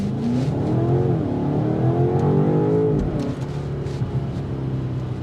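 A 2025 BMW X5 M Competition's 617-horsepower S68 engine pulls hard under acceleration, a loud, steady, close drone that rises in pitch and then eases back, heard alone without talk.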